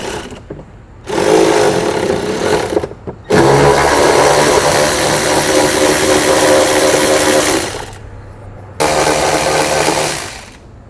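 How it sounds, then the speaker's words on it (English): Bolts being removed with a 10mm socket on a 2016 Nissan during trailer wiring harness installation; loud, close powered whirring in three sustained bursts with brief pauses between. "We're going to grab a 10mm socket and we're going to pull those bolts out."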